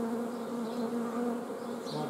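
Bees swarm over a beehive frame at an apiary, a dense continuous buzzing hum, close and steady, with no voices.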